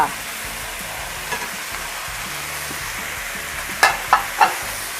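Spicy Thai mussels stir-fry with basil sizzle steadily in a hot wok, a constant frying hiss broken near the end by a few sharp scrapes of a spatula against the metal.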